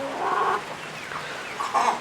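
Tiger-breed chickens cluck in short bursts, close by, with a steady low background and no talking.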